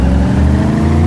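A car engine in a video game hums and revs steadily, close and loud, a continuous low drone lasting about a second.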